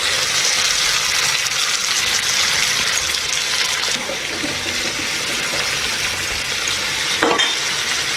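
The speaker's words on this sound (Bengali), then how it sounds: "মশলাটা দেওয়ার পর ভালোভাবে কষতে হবে যতক্ষণ না মশলার গন্ধটা চলে যায়" Chicken sizzles and is stirred in a pan with ground spice paste, a continuous loud frying hiss with occasional scraping of the spoon and no talking.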